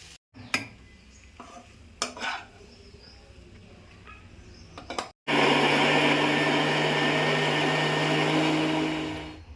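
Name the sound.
mixer grinder grinding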